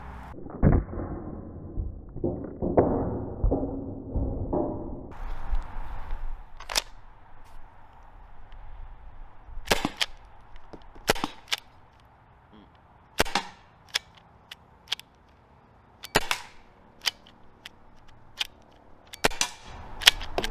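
A Byrna HD less-lethal launcher fires a string of sharp, snappy pops at an irregular pace, some close together and others spread out, over low background noise after a brief stretch of handling sounds.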